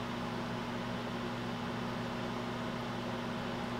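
A Panasonic Home Chef 4 in 1 multi oven microwave runs on its combo setting, giving a steady, even hum with a low electrical drone and airy fan noise that holds unchanged throughout, with no talk.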